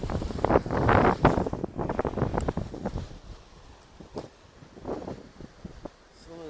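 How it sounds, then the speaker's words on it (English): Gusty wind buffets the microphone at a fishing spot on a bank by the water, loud rumbling bursts in the first seconds, then easing into softer gusts. "As soon as I decide to throw it, the wind starts."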